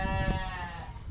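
A goat or sheep gives one drawn-out, wavering bleat at an exotic bird and animal swap in Waverly, Iowa, close and clear over low crowd murmur.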